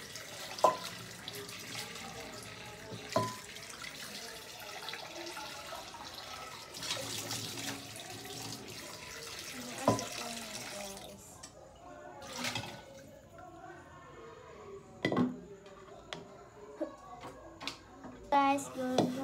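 Dishes being washed in a sink under a running tap, with water splashing and dishes clinking through the clip while a person talks over it.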